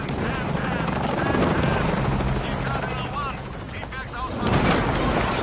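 In the video game Shadow of the Tomb Raider, a helicopter drones loudly and steadily amid gunfire and combat noise, with a voice speaking over the action.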